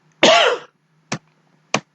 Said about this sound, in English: You'll have to excuse me coughing from time to time.